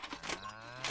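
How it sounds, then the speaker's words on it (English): A cow moos in a children's animated programme, a single drawn-out low call with a steady tone that fills most of the short moment, clear and close with no talk over it. "Nice cow."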